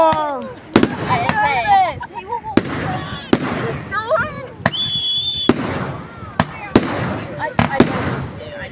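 Squiggly zigzag fireworks at Pounawea go off in a rapid series of sharp bangs, each trailed by whistling, crackling squeals, while people exclaim and talk throughout.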